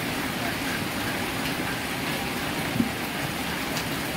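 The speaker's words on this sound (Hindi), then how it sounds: "हाँ वर्षा रही रही" Heavy rain falling in a village, a dense, steady hiss of rainfall at constant loudness throughout, with no talking over it.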